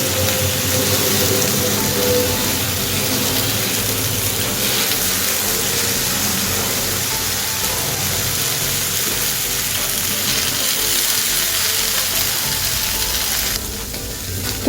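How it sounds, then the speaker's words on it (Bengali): Pointed gourd and shrimp fry together in a pan with loud, steady oil sizzling and crackling, a dense hiss that carries on unbroken with no voices. "এবার এই একই সাথে পটলের সাথে চিংড়িগুলোকেও একটু ভেজে নেব।"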